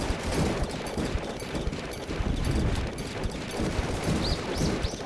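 Gunfire in the DEEEER Simulator video game comes as a dense, continuous barrage of rapid shots with rattling bursts, loud and constant throughout.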